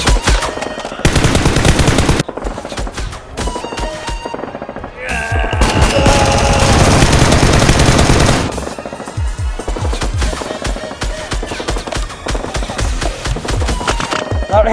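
Toy Nerf guns firing in loud, rapid bursts like machine-gun fire, with a dense sustained volley in the middle and sharp repeated pops throughout.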